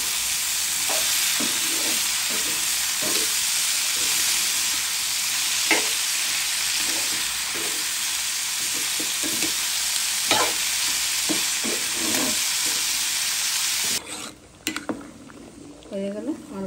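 Potatoes with turmeric fry in a pan with a constant close sizzle, while a utensil stirs them in repeated soft scraping knocks; the sizzle drops away near the end.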